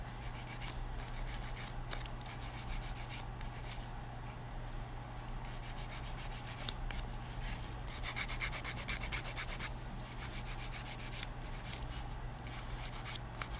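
A nail file rubs across acrylic nails in quick, rhythmic back-and-forth scratching strokes, close but fairly faint, continuing steadily over a low background hum.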